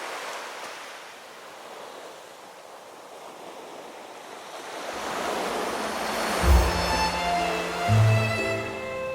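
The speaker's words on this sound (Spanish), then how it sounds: "oír las olas rompiendo. 1, 2, 1, 2, y llenando la playa de salpicaduras de agua" Waves break on a beach, the surf starting as a soft, steady wash and then swelling into a louder, fuller roar with heavier crashes toward the end.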